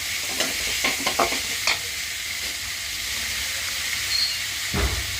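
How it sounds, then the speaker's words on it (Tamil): Onions sizzle and hiss steadily in a hot pan for spicy vegetable Maggi, with several clinking stirs of a utensil against the pan near the start and another near the end. No one speaks. "வெங்காயம் நல்லா வதங்கட்டும்."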